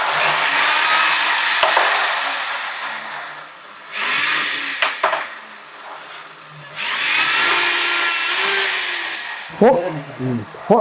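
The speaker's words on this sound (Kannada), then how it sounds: "ಡ್ರಿಲ್ಲಿಂಗ್ ಮಿಷಿನ್ ಸಣ್ಣ ಬಿಟ್ಟಲ್ಲಿ ಸಣ್ಣ ಬಿಟ್ಟಲ್ಲಿ ನೋಡಿ ಇಲ್ಲಿ ತೋರಿಸ್ತಾರೆ" An electric drill with a small bit bores holes, its motor whining up to a high pitch and winding down three times, loud and close, with a few clicks and knocks in between.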